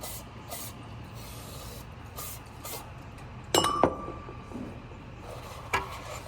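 Short hissing bursts of a spray bottle spraying cleaner on Tillotson 212 engine parts, a few spaced squirts, along with clinks of metal and a faint background hum.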